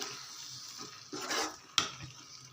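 A spoon stirs spinach and onion curry in an oiled pan, giving soft scraping and a faint simmering sizzle, with one sharp clink near the end.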